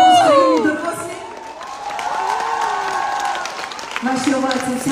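Studio audience at a Ukrainian talent-show broadcast cheers and applauds loudly, a broad roar of clapping and shouts with voices rising over it and swelling again at the end.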